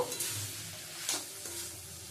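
Okra and potatoes sautéing with spices and poppy seed in a pan for a Bengali bhindi-potato chachchari, giving a faint, steady sizzle with a couple of brief stirring scrapes, no voices.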